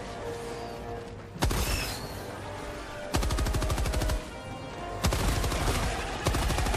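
Rapid bursts of automatic gunfire from a shooter game crack out close and loud in several separate volleys, each a quick rattling string of shots, with a quieter pause between bursts.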